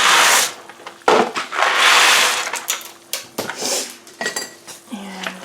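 Noodles go into a pot of boiling water for a vegan tuno noodle casserole, with loud clanks and scrapes of metal pot and utensils, a few sharp knocks and bursts of rattling between quieter moments.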